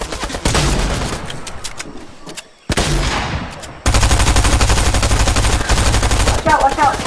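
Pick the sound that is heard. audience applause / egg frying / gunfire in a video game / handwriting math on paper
gunfire in a video game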